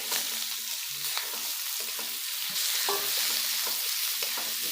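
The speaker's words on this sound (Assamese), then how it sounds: "এতিয়া মই মাংসখিনি ইয়াত ঢালি দিলোঁ।" Duck meat poured into a pan with fried garlic for an Assamese-style duck curry, frying with a continuous hissing sizzle and occasional stirring knocks, close up with no voices.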